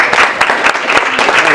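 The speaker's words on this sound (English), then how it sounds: "please, everyone, give a round of applause for Erica" Audience applause at a press conference welcoming a presenter, loud close clapping with distinct individual claps standing out in an uneven, lively rhythm.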